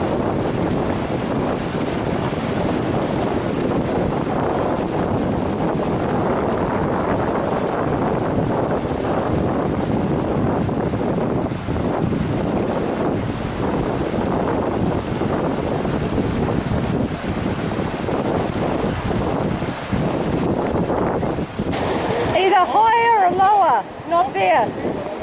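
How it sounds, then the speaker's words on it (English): Wind buffets the microphone over rushing river water throughout a barefoot river crossing on a Pacific Crest Trail thru-hike, steady and loud, with brief bird chirps near the end. "Now it's the river crossing."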